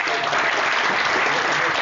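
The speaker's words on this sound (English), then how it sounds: "Give him a warm applause." An audience at a network operators' conference presentation breaks into sustained applause, dense clapping from many hands holding steady at full volume for the whole stretch.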